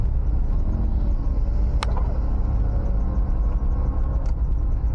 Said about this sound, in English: Alright, looks like we're on the move.